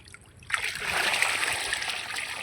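Water mixed with compost is poured onto terrace garden plants, a sudden splashing gush that starts abruptly and continues as a steady, close pouring rush.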